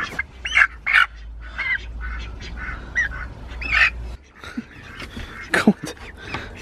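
Ducks quacking in short repeated bursts, close by on a homestead with chickens, over a low rumbling background, with a brief softer stretch midway.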